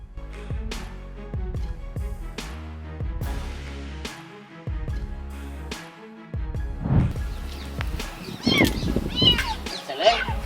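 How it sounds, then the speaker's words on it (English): A cat meows repeatedly with its head stuck in a jar, the strained cries rising over background music and growing louder and more frequent toward the end. "Did you see the cat suffering when its head was stuck in the jar through its meowing?"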